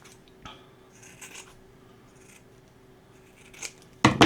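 Scissors snip at the faux fur trim of a Dollar Tree Santa hat during a craft project: a few soft, scattered cuts, then a louder crisp burst of snipping at the end, with no talking.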